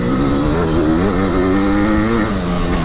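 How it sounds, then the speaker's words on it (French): A Maico 700 motorcycle engine runs loud and close at a steady, smooth rumble, its pitch wavering slightly as it holds speed. "Mais vous l'entendez, hein, le moteur est doux."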